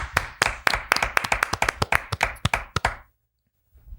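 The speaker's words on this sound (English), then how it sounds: "Can we just give them a quick round of applause?" A small group applauding briefly on a golf podcast, with distinct, close individual claps in an uneven rhythm that stop abruptly after about three seconds and leave near silence.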